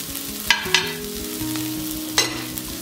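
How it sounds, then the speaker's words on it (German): Garlic dropped into a hot frying pan with browned filling for cabbage rolls, a steady moderate sizzle broken by a few sharp scraping stirs, with no talking. "Jetzt tue ich den Knoblauch dazu."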